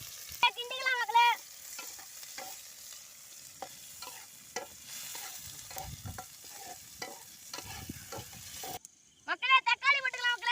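Onions frying in oil in a pan, stirred with soft scraping and a steady low sizzle, cooking for an egg dish; a voice talks at the start and again at the end.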